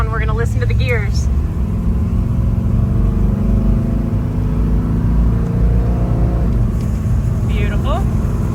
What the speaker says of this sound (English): We're gonna listen to the gears.